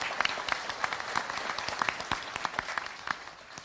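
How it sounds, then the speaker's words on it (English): Audience applause at a spelling bee championship for families and supporters, a dense steady wash of many hands clapping with a few sharper claps standing out, moderately distant and continuous throughout. "can you give them a big round of applause for their support?"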